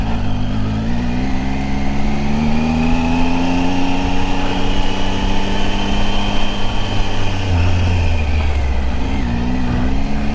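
A Triumph Tiger motorcycle engine hums steadily and close while riding up a forest road in Mendocino National Forest, holding a constant, loud drone with gentle shifts in pitch and no talking.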